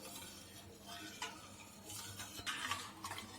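A spoon stirring rice flour batter in a pot on a gas stove over low to medium flame, a soft continuous scraping swish with a few louder scrapes, close and alone.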